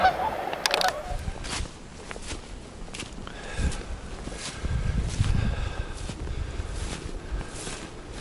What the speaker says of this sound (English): I've really upset the swans